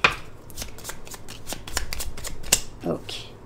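Tarot cards are shuffled close up in quick riffling slaps, a rhythmic series of crisp card strikes at a steady pace, with a voice speaking faintly in places.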